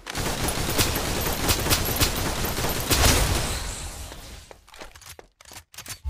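Suppressive gunfire in the Snowbreak: Containment Zone video game, a dense, loud burst of continuous automatic shooting that thins out into a few scattered shots and scrapes.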